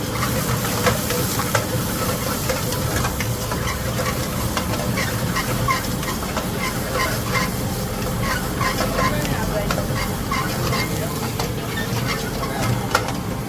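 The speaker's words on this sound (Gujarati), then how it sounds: "જીરાનો ને એનો સરસ વઘાર આવી ગયો છે પનીર ભુરજી" Cumin tempering for paneer bhurji sizzles in hot oil at a busy street food stall, a loud, continuous hissing sizzle with scattered crackles, and voices talk nearby.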